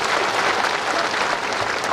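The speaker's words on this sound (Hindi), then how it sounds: "ताली बजाओ" Dense, steady applause from a large crowd at a political election rally in Chandrapur, loud and continuous throughout with no voices standing out.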